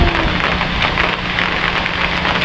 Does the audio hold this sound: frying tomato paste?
no